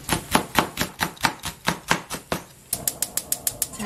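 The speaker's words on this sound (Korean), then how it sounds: "대파 조금만 잘게 썰어주겠습니다" A knife finely chops green onion on a cutting board while okonomiyaki is being prepared, with a steady run of crisp, close strikes, then a brief pause and a faster, lighter second run.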